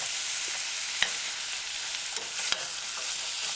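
A chickpea, mushroom and pepper stew is stirred in a pot over heat, giving a constant loud hissing sizzle with a few sharp clicks of a spoon against the pot, close and without speech.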